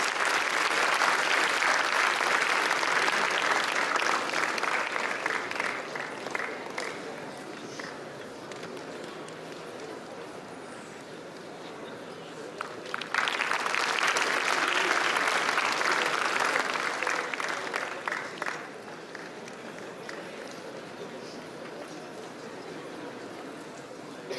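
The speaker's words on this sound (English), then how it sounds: "Can we have a round of applause, please?" Two waves of loud crowd applause at the Arena '15 inauguration ceremony, one at the start and another swelling around the middle, each fading into lighter scattered clapping.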